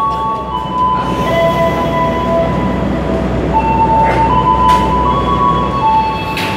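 The Jayabaya passenger train, hauled by locomotive CC 20617 with economy, dining-generator and executive cars, rolls past loudly in a continuous rumble with steady rail noise and scattered high squeals from the wheels.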